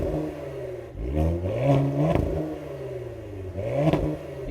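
The engine of a 2025 Cadillac CT5-V starts up and revs, a close rumble climbing in a couple of sharp surges around the second mark and again near the end, with no one speaking.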